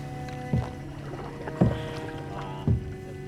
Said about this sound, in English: we're gonna be paddling in the dark